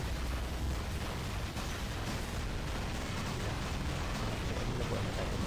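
Heavy explosive impacts pounding a combat robot in the mobile game War Robots, test-server Hades robot on Android, a dense continuous rumbling roar of blasts and battle noise at steady loudness with a voice talking faintly underneath.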